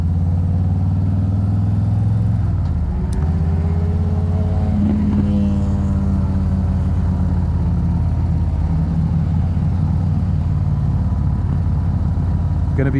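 A 2024 Harley-Davidson Street Glide rides steadily through English countryside and towns, its low engine rumble continuous and close, with a gear change and rising pitch partway through and wind noise throughout.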